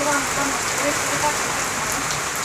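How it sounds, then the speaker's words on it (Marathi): Steady rain pattering on a surface, a dense continuous hiss with soft drops, no talking. "चहा पिऊन झाल्यानंतर पाऊस आला आहे"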